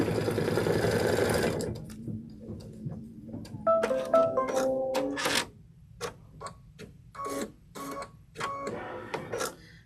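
A sewing machine stitches a quilt block tack-down, starting with a loud continuous run, then stopping and starting in short rhythmic bursts of whirring and clicking, close and clear with no talk.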